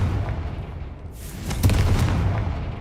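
A Confringo blasting spell explodes in Hogwarts Legacy, a deep boom swelling about midway and rolling on as a sustained rumble with crackling bursts, alone without talk.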